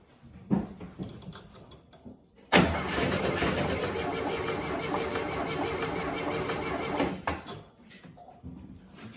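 A 1972 VW Westfalia engine, running rich, catches with a loud burst after a few faint knocks, runs roughly and close for about five seconds, then cuts out, leaving scattered clunks.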